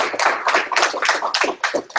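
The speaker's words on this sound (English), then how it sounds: "Give Brian a round of applause." Applause for a presenter at an online tech meetup, a small group clapping in quick, uneven bursts of separate claps that sound close and moderately loud.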